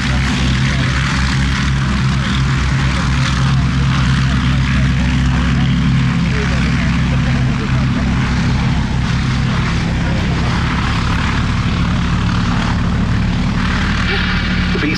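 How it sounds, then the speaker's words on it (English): Vintage propeller aircraft, a Bristol Blenheim followed by Westland Lysanders and a Gloster Gladiator, take off at a Battle of Britain airshow, their piston engines giving a loud, sustained, steady drone close by. "Now we're getting our aircraft for our next formation into the air with the Bristol Blenheim first off."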